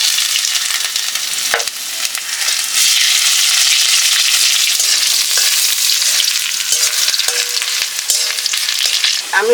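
Bay leaf and crushed ginger sizzle steadily in hot oil for a khichuri tempering, a loud continuous crackling hiss with occasional stirring clinks and no voices.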